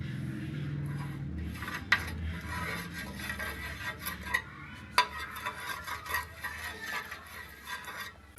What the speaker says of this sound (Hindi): अब पराठा बनाने के लिए सबसे पहले तवे पे घी लगा लेंगे